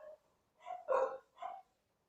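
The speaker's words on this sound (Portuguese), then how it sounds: "o cachorro aqui embaixo começa a latir" A dog barks downstairs in a home, three short muffled woofs at a moderate distance, spaced about half a second apart after a brief earlier yelp.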